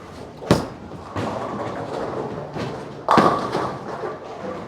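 A Motiv Ripcord Velocity bowling ball rolls down the lane: a sharp early thud, a steady rumble, then a loud clattering crash as the ball strikes the pins and they scatter.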